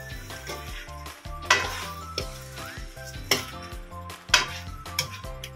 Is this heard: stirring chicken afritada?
yes